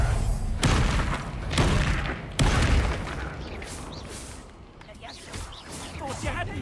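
A Confringo spell exploding in the video game Hogwarts Legacy, with three heavy booming blasts in quick succession followed by crackling debris and rumble, loud and close, while a voice talks over the combat.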